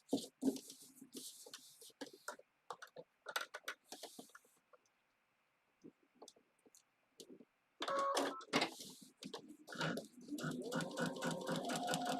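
A sewing machine stitches foundation paper piecing in short bursts of rapid mechanical chatter separated by pauses, with a longer steady run near the end, close and fairly quiet, alongside some handling noises.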